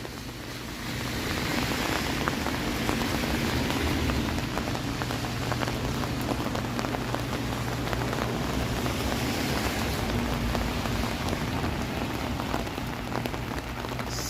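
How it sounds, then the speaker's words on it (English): Steady, loud rain falls on Bloor Street in Toronto on a wet evening, a dense unbroken hiss of drops on pavement with faint traffic rumble underneath. "It's a rainy Bloor Street walk here."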